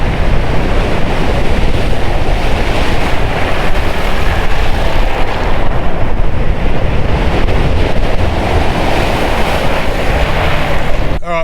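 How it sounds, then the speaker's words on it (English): A car drives through a shallow river crossing about a foot deep near a beach at Bremmer Bay, a loud continuous rush of churning water and wind-buffeted noise with no pause. "So we've just got this little river crossing here."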